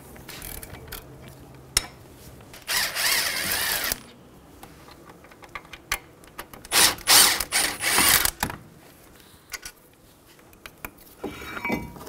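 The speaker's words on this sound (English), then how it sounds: "Using a 17 millimeter socket, remove the caliper bracket bolts." A 17 mm socket wrench ratchets off the caliper bracket bolts on a 2007-2011 Toyota Camry, with two loud bursts of rapid clicking separated by quieter handling noises and clinks.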